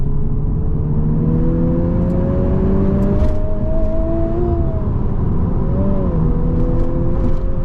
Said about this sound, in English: Listen to the car. It's like taking a deep breath.